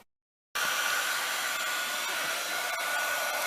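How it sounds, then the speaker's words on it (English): A heat gun used for embossing powder blows with a steady, loud, hissing whoosh that starts abruptly after a brief silence and runs continuously without pause. "let me get my heat gun"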